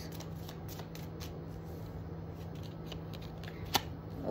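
Tarot cards are handled and shuffled in a quiet room, a soft continuous papery riffle with light flicks and one brief sharper tap near the end.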